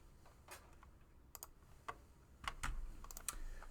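Someone types code on a computer keyboard in a quiet room, with irregular bursts of soft, close key clicks and a few sharper taps, with no talking.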